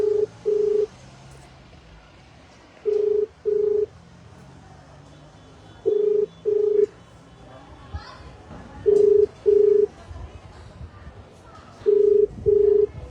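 A phone call rings out while waiting for someone to pick up: paired electronic ring tones repeat about every three seconds, clear and steady, over faint room noise and occasional voices.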